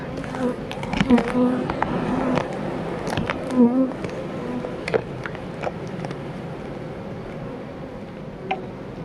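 Honeybees swarm and buzz around a bee package at an apiary, a steady, close droning hum with scattered louder passes and faint low voices in the background.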